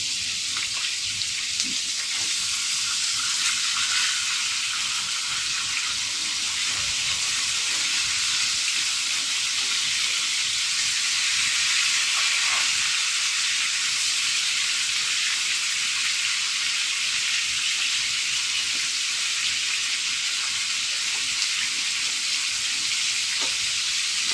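A piece of kalbaus fish sizzles steadily in hot oil in a pan, a constant close frying hiss with occasional faint crackles, no voices.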